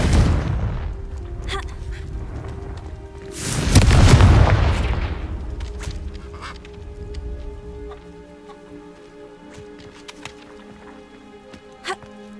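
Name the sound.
Confringo blasting spell explosion in the video game Hogwarts Legacy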